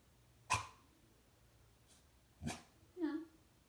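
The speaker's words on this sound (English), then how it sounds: "What are you barking at?" A dog barks a few times in a quiet indoor room: a sharp single bark, a second bark after a pause, then a short whining yip, all fairly faint with no talk.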